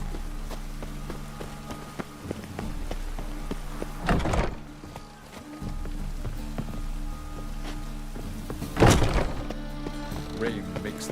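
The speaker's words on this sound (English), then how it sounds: "Rain makes this city even more dreary." Steady rain falls over a dreary city in a video game, a constant wash of patter under a low ambient hum, broken by a couple of louder thuds or door-like knocks.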